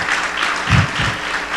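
A church audience at a 2013 theology conference applauds loudly and densely, with a thick wash of many hands clapping and a brief low thump partway through, and no voices over it.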